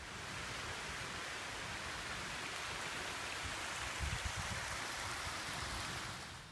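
Stormwater runs steadily into a garden rain bed, a constant, close, hissing rush of flowing water with no breaks and no voices.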